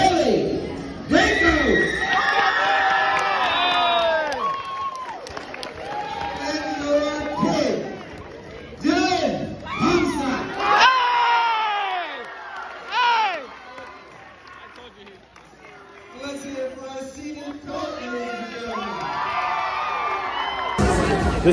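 Crowd at a 2020 Winterball school dance cheering, whooping and shouting loudly in bursts, with excited voices and yelling throughout and a brief lull near the end before the noise rises again.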